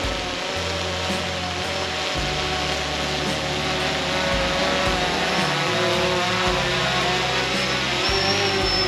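A second-hand DJI Phantom 3 Standard quadcopter on a test flight near trees makes a loud, close, continuous buzzing whine from its motors and propellers, its pitch shifting slightly as it manoeuvres.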